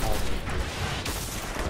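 A dense, continuous burst of video game gunfire from Destiny roars loudly and fills the whole moment, with chatter from players faintly mixed in.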